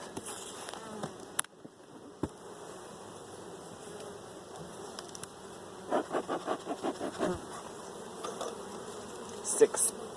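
Honey bees hum around nuc hives during an inspection of six nucs on a pallet, a constant close buzz broken by clicks, knocks and a run of soft rhythmic bumps from handling the frames.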